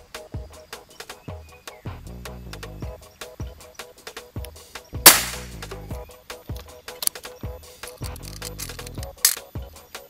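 A sharp, loud Black Monkey 360 CC air rifle crack stands out around the middle, with a second fainter snap later, amid repeated mechanical clicks and ticks.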